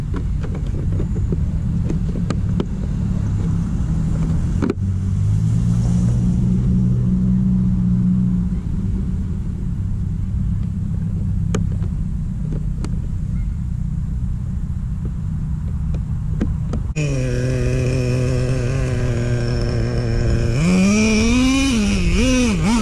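Traxxas Slayer Pro 4x4 nitro RC truck with a 3.3 engine and 20% nitro fuel runs loud and steady, with a droning rumble, a short revving surge near the middle and a sharp high-pitched wail near the end.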